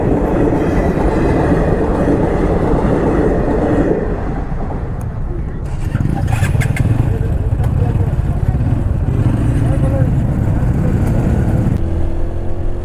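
Lalgola Passenger train rumbling past on rail tracks, heard from a roadside while riding a motorcycle, with a broad steady roar that shifts midway and continues throughout, wheel-on-rail clatter mixed with road and wind noise.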